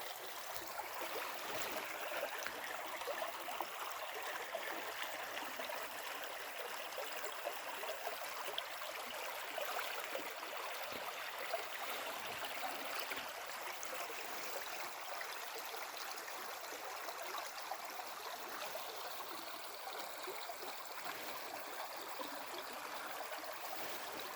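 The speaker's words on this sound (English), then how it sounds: "Trail goes right by the creek here." A creek flowing right beside a hiking trail, a steady close rushing and trickling of water that holds constant throughout with no talk.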